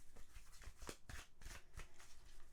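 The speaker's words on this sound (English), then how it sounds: "So sorry about my lame attempt at shuffling." Tarot cards are shuffled by hand in a series of soft, irregular riffling and slapping bursts, close and quiet, with no speech.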